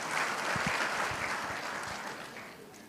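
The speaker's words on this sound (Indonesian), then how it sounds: "Boleh kasih tepuk tangan buat tim praise and worship kita." Church congregation clapping for the praise and worship team, a full, sustained round of applause that starts strong and gradually fades toward the end, with no speech.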